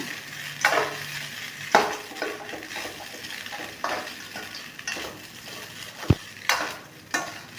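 Coconut idiyappam with roasted peanuts stirred in a pan: a spaced series of scraping stirs and metal clinks against the pan over a faint sizzle, with one sharp knock near the end, close and quiet, with no talking.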